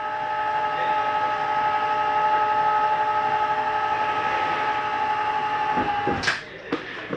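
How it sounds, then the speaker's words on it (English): On a 2018 Forest River XLR 29QBS toolhauler RV, a mechanism hums steadily for several seconds, then stops with a sharp click followed by a couple of fainter knocks, close up. "Now you hear this when it gets to the top, you're going to hear it click in."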